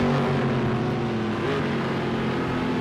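Mercedes Group C race cars battling wheel to wheel at the A1 Ring in Project Cars 2, a dense, steady engine roar with layered whining tones that shift pitch as the cars duel closely.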